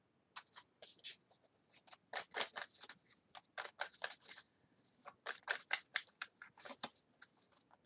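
Tarot cards are drawn from a deck in a quiet room, a run of soft, crisp papery flicks and slides in irregular clusters, close and faint, with no talk.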